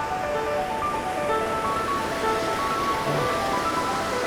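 Continuous rushing water from a waterfall in Upper Eskdale, Lake District, roars steadily from nearby, a dense unbroken wash of falling water with faint high birdsong drifting over it.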